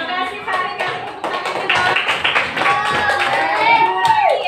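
Children in a classroom coding lesson clap their hands in applause: a dense, steady patter of many claps that carries on throughout, with children's voices mixed in.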